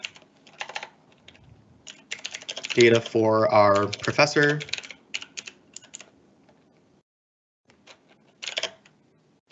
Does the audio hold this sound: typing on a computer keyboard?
yes